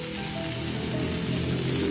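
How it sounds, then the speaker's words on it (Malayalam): Cleaned prawns with the heads pinched off frying in a pan, giving a steady, dense crackling sizzle that holds evenly throughout at close range with no talk. "ഇതൊന്ന് വറുത്തെടുക്കാം"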